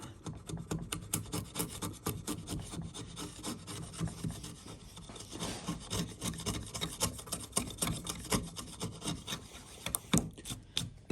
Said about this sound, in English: Keep the chisel flat.